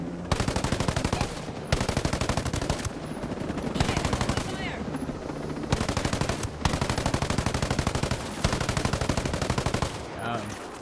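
Sustained bursts of automatic gunfire in the shooter video game Ghost Recon Breakpoint, loud rapid volleys separated by short pauses, repeating across the whole stretch.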